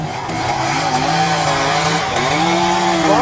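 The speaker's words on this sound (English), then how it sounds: "This is a semi-automatic circular saw blade, firewood saw designed in the UK, with unique features to produce high-quality firewood." A UK-designed semi-automatic circular saw blade firewood processor cutting logs, its loud motor whine rising and falling in pitch as the blade bites through wood, close and continuous with no voices.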